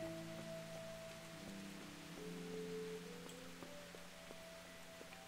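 Rain in the medieval role-playing game Kingdom Come: Deliverance: a faint, even hiss of falling rain runs throughout beneath soft sustained musical tones, with no voices.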